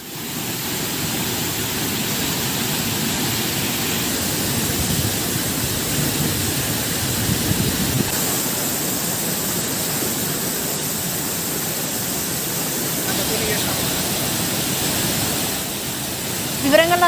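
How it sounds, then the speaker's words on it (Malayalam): Thripparappu waterfall in Tamil Nadu, swollen by heavy rain, gives a loud, steady, unbroken roar of rushing water that fills the whole scene. "കനത്ത മഴയിൽ തമിഴ്നാട്ടിലെ തൃപ്പരപ്പ് വെള്ളച്ചാട്ടത്തിൽ ഒഴുക്ക് ക്രമാതീതമായി വർദ്ധിച്ചു"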